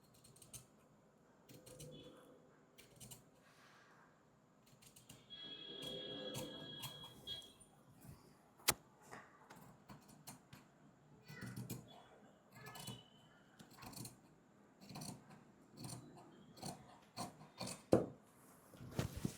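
Scissors cut along marked lines through blouse fabric, giving quiet, intermittent creaks and rubbing snips with short pauses between strokes, close up and with no talking.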